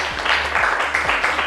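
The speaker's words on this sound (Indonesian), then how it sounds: "beri tepuk tangan untuk kelompoknya Ganjar" Brief patter of classroom applause for a student group after a presentation, moderate and steady over a short stretch with no voices.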